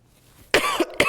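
Two sharp coughs close to the mic, the first a harsh double burst, the second a quick follow-up, after a near-silent moment.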